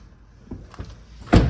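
Rear door of a Mercedes CLA200 AMG Line opening: a soft latch click and a few light knocks, then a louder, close thunk near the end, with no talk.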